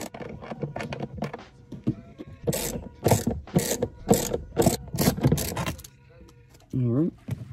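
Ratchet with a 10 millimeter socket removing bolts on a 2014-2018 Sierra or Silverado, a series of quick close clicking bursts in an uneven rhythm, with a person speaking briefly at times.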